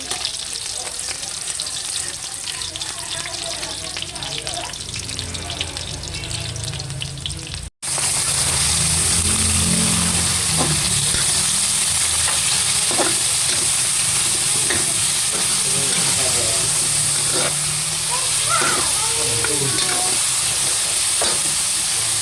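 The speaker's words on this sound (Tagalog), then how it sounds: "bali yun naman pong pansit ang aking lulutuin" Half a kilo of pancit noodles frying and being stirred in a pan at a home birthday cook-up: a loud, continuous close sizzle with clattering stirs, quieter before a sudden jump in level partway through.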